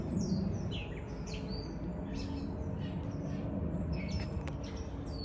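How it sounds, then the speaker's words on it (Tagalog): Many birds chirping along a park trail in Georgia, with quick high tweets and calls scattered over a low background hum, faint and somewhat distant. "Yung daming ibon."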